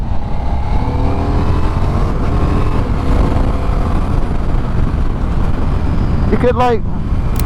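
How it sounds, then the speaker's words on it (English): A Ducati XDiavel V4 motorcycle engine runs on two cylinders, a loud, steady, rough engine drone held close throughout, with someone talking over it and a brief higher whine near the end. "Can you hear it? That's it, running on 2 cylinders."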